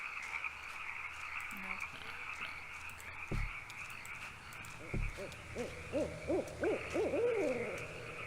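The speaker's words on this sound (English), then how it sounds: "There's an owl." Owl hoots from a horror exploration video game set around a truck and a house, a few low calls sounding amid a steady ambient night bed, with frog-like croaks and later rising chirps layered over the background.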